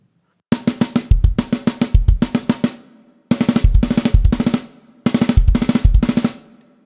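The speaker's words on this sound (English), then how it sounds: "there's a fill, okay? Now the fill is, it's a 2-bar fill" Two-bar drum fill from a song played on a kit: three loud bursts of rapid snare hits with deep bass drum thumps, each a six-note pattern, separated by brief pauses.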